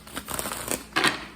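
Tarot cards are shuffled close by, a few soft papery riffles and flicks ending in a brisker, louder shuffle near the end.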